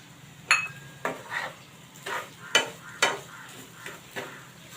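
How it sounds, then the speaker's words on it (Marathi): A spatula scrapes and knocks around a pan of khoa and grated coconut roasting over medium gas, giving a string of sharp, close scraping strokes with short pauses between them and a faint sizzle underneath. "आता हे सगळं मिक्स करून आपण चांगलं परतून घेऊया भाजून घेऊया"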